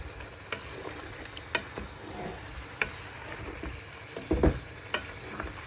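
Seafood and boiled egg sizzling and being stirred in a frying pan, a steady close hiss broken by scattered clicks and scrapes of a utensil against the pan.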